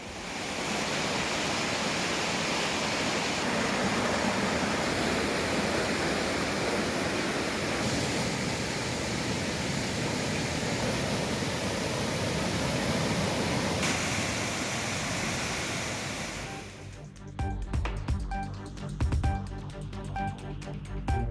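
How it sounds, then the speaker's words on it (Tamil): Thirparappu waterfall in heavy flood after heavy rain roars as a dense, continuous wall of crashing water for most of the span, then cuts to quieter, uneven sounds near the end. "கனமழை காரணமாக திருப்பரப்பு அருவியில் கடும் வெள்ளப்பெருக்கு."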